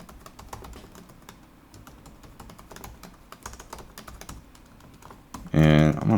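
Rapid, steady clicking of fingers typing on a computer keyboard at close range, with a short burst of other noise near the end and no talk over it.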